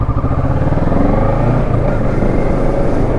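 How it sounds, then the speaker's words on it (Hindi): A loud motorcycle engine runs steadily at close range, a continuous rumbling drone with no speech over it. "बाइक की साउंड थोड़ी ज़्यादा है"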